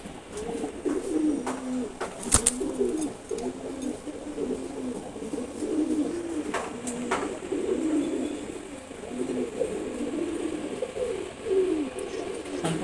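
A pair of Silver Gorra pigeons coo in repeated low, throaty phrases close by, with a few sharp clicks and faint background noise and no talk.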